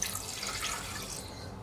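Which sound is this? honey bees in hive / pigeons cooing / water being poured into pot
water being poured into pot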